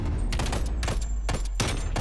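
Bursts of gunfire from a multiplayer shooter match, several short volleys of rapid shots over a steady low rumble, fairly loud and close with no talking.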